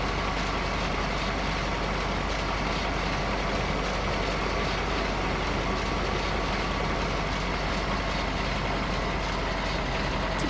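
A truck rumbles steadily in Farming Simulator 15 on a Pennsylvania farm map, a continuous loud engine drone with faint reversing beeps and air brake hiss, no talk over it.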